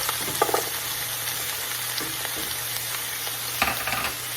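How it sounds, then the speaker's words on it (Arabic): Onion and garlic fry in lamb fat with a steady, close sizzle, punctuated by several scraping stirs and utensil knocks against the pot. "ونحمسهم شويه"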